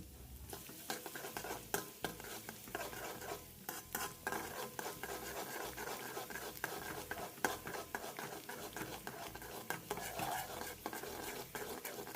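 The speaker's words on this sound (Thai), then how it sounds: "ใส่กระเทียมสับลงไปประมาณ1ช้อนโต๊ะ แล้วก็เจียวให้หอมดีเลย" About a tablespoon of minced garlic fries in oil already used for frying herbs, a dense, steady crackling sizzle broken by frequent stirring scrapes and clinks of utensil on pan, with no talk.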